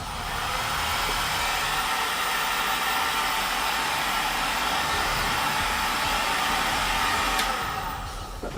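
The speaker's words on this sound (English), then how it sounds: "And using the heat gun." A heat gun blows hot air across plastic shin guard pieces in a steady, loud, broadband whoosh that runs unbroken for several seconds before cutting off near the end.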